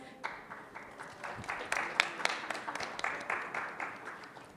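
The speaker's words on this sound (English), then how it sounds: "We welcome them with a round of applause." Scattered, fairly faint clapping from an audience at a hospital critical-care panel discussion, a loose run of individual claps over about four seconds with no one speaking.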